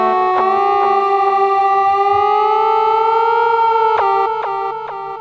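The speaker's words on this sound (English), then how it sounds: "very cool synthesized sounds on this thing" A loud electronic synth tone from a Korg Electribe EMX drum machine holds a rising, wavering pitch like a siren, with sharp percussive blips ticking over it.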